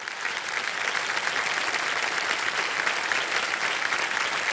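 Studio audience applause on a televised quiz show set, a steady dense wash of many hands clapping at once, loud and continuous throughout with no break and no voices over it.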